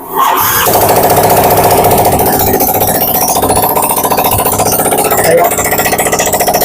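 A Yamaha Mio Soul GT 54P scooter that has sat unused for years is started, cranking briefly and then catching into a loud, steady, rattling idle up close.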